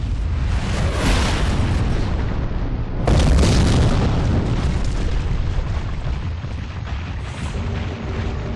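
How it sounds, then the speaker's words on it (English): A remotely triggered bomb explodes in Secret Files 2, a loud sustained roaring blast that surges again midway and rumbles on, filling the whole stretch. "The bomb! They triggered it remotely!"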